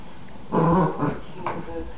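A dog lets out a low, rumbling growl-groan close by, a brief grumbling burst followed by a shorter second one amid faint background noise.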